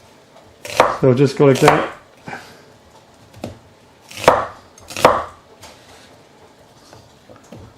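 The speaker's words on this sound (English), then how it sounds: "I'm just going to cut the onions into fairly large pieces" Onions are chopped into large pieces on a cutting board, with a few quick bursts of knife strokes followed by single scattered chops, close and fairly quiet, and a short spoken remark between them.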